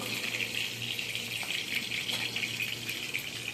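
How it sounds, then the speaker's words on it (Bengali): Potatoes frying in white oil on a gas stove make a continuous bright sizzle with scattered small crackles, fairly soft and close. "দেখো আমি গ্যাস ধরিয়ে সাদা তেল দিয়েছি আলুটা ভাজবো বলে"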